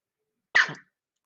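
A single sharp sneeze bursts out after a moment of silence, close and loud, then fades quickly back to quiet.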